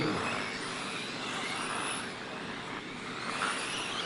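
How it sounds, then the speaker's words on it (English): Eight radio-controlled modified rubber-tire sprint cars race around the track at Bakersfield RC Raceway, a continuous hissing, whirring drone heard from a distance at low volume, with no talk over it. "8 cars going the distance here at Bakersfield RC Raceway"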